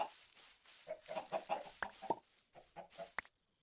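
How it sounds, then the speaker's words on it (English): Chickens in the video game Minecraft give a quick run of clucks and short squawks, close and clear and fairly quiet, bunched irregularly, with a couple of sharper calls before the sound stops. "I wanted to come and spend a bit of time with my chickens."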